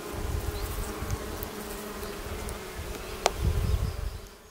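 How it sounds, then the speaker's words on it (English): Bees and other insects buzz around blossoming bushes in a village garden in May, a dense continuous hum near and far, with one insect droning close past the microphone partway through. "And it's just buzzing. Everything is buzzing."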